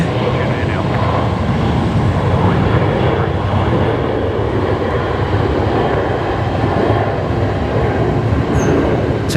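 A Qantas jet, flight 549 bound for Sydney, takes off from a Brisbane Airport runway at night, giving a steady, loud, broadband engine roar that holds throughout with little change.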